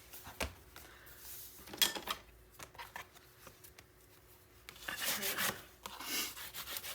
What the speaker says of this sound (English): Burnish those in